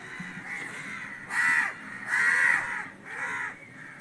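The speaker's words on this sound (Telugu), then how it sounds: "వీడియో తీసినప్పుడు అల్లా కాకులు రచ్చ" Several crows caw loudly in three harsh bursts, close by, with a steady background hiss between calls.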